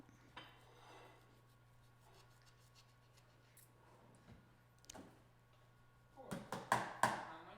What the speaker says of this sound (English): We need to wash dishes.